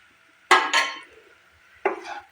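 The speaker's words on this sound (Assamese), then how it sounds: "দি এইখিনি আকৌ এইদৰে ভালদৰে মছলাখিনি মিলাই লওঁ" A spoon stirs Maggi masala into food in a pan while a steamed breakfast dish is being made. Two close scraping strokes are heard, then a third after a pause, with quiet between them.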